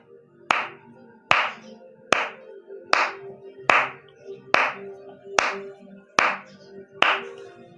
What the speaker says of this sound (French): Acclame pour Dieu.